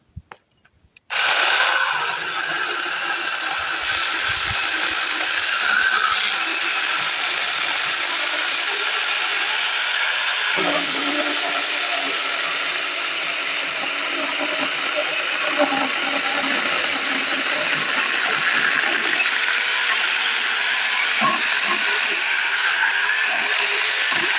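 A Pro-craft mini chainsaw cuts through a knotty piece of wood, a loud continuous buzzing whine that starts abruptly and holds steady for over twenty seconds, with slight changes in load.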